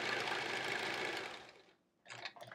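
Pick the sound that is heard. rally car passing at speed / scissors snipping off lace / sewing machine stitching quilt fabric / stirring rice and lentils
sewing machine stitching quilt fabric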